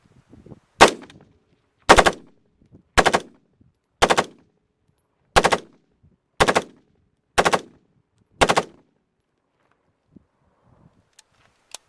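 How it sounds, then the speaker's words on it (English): A rifle fitted with a HERA ARMS linear compensator fires eight sharp, loud three-round bursts at roughly one-second intervals, each burst cracking and then decaying quickly, with near silence between them and at the end. "where you would have a 3-round burst situation. See if the climb is any different in that situation."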